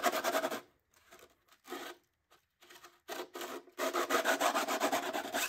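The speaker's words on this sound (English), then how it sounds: "Use the round file on the main spar." A round file rasps back and forth through a carbon spar channel in a foam model-aircraft wing, close-up bursts of scratchy filing strokes with short pauses between, then a steadier run of rhythmic strokes.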